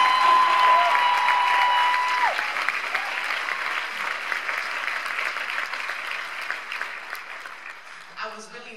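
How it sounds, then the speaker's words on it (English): A keynote audience at VidCon claps and cheers loudly, the applause holding strong at first and then thinning and fading. A voice cuts in near the end, with a whistle-like tone briefly at the start. "You can clap because I need some energy."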